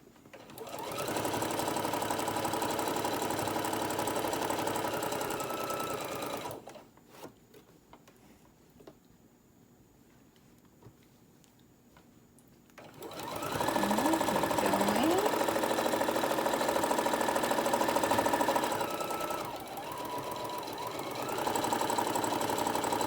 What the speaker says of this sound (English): My pressure foot is even with the side of my fabrics, and I'm just sewing straight down.